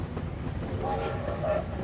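A railroad car rolls steadily along the track in a train sound effect. Its continuous rumble and clatter carry on throughout, with faint tonal hints, under a speaking voice.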